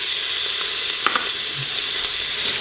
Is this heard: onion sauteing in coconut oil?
yes